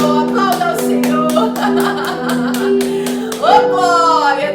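Rhythmic congregational clapping at a worship service keeps a regular beat over sustained music, with a voice calling out loudly near the end.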